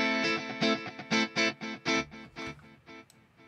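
Rhythmic funk electric guitar chords from a UJAM Virtual Guitarist Sparkle plugin, processed and shimmering with chorus and delay, each strum ringing out with a reverberant tail.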